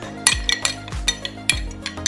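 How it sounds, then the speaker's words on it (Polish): A spoon clinks and scrapes against a dish while stirring potato starch into cold water, in quick repeated strokes, close and fairly loud, with no talking. "Mąkę dobrze wymieszam w wodzie."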